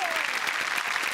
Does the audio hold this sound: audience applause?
yes